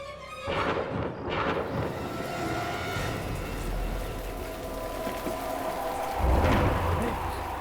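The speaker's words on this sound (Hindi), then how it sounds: "ये तूफान कैसा?" A night storm over a cemetery in a Hindi horror drama, steady heavy rain and gusting wind throughout with a deep thunder rumble near the end, loud and close with no speech over it.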